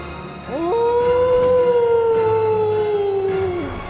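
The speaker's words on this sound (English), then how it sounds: "He's howling." A beast in the video game Bloodborne howls loudly and close, one long sustained wail that rises at the start, holds steady for about three seconds, then falls away, with no talk over it.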